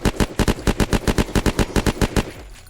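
Automatic gunfire in the video game Unturned: a loud, steady burst of roughly sixteen evenly spaced shots at close range, tapering off at the end, with no speech.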